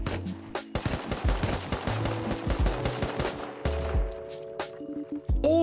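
Gunshots in the Rust video game: rapid bursts of loud gunfire with sharp repeated cracks over several seconds, some shots overlapping in quick automatic fire.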